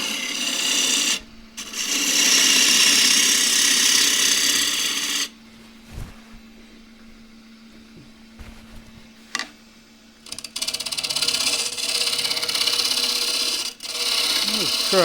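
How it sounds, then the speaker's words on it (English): A 1/2 inch spindle gouge cutting into a large crossgrain wooden box blank on a lathe gives a loud rasping, scraping hiss. It comes in two long bursts with a quieter stretch of talk and small knocks between them. "Just cut that in using the 1/2 inch spindle gouge."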